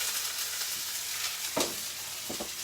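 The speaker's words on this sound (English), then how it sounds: "you can see the tamari starts boiling everything" Tamari poured into a hot pan sizzles and bubbles in a loud, steady hiss, with a couple of brief clatters of stirring against the pan near the end.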